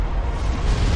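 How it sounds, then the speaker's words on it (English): A big explosion in the real-time strategy game Supreme Commander, heard as a loud, dense, sustained roaring blast with no speech over it. "Big ass explosion."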